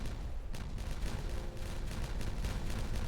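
Explosives detonate in the city-building game Timberborn, giving a dense, continuous rumble of blasts with sharp bursts scattered through it, loud and sustained for the whole stretch.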